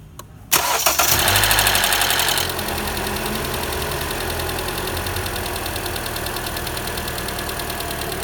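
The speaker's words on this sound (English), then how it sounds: "Elizabeth, turn on the car" A car fitted with a refurbished alternator cranks briefly, catches and then settles into a steady, even idle that stays loud and close.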